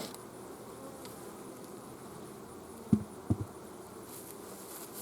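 Honey bees buzz around their hives in a steady, low drone, a dense insect hum heard outdoors with a couple of brief knocks partway through.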